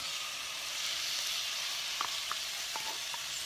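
Canned beans hit a hot frying pan seasoned with cumin, giving a soft, steady sizzle and hiss with a few faint clinks of a utensil; quiet overall and no voices.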